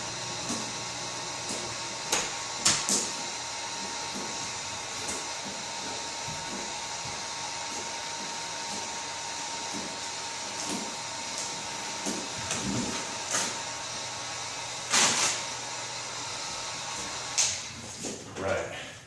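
On a 2007 Subaru STI, a heat gun warms 3M vinyl wrap, giving a steady airy blowing hiss throughout with soft clicks and handling noises; someone talks faintly now and then.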